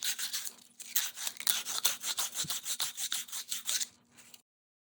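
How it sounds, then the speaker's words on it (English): Sandpaper scrubbing metal clean before soldering, heard as a steady run of quick, rasping back-and-forth strokes, close and fairly loud, that stops abruptly near the end. "you could clean this off with sandpaper, and it does a good job"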